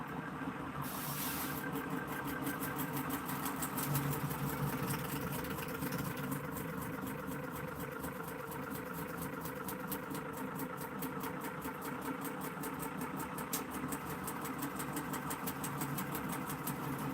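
A Utron pulse motor runs on both circuits at once, producing a steady mechanical hum and rapid rhythmic pulsing that stays constant throughout at a fairly low, close level.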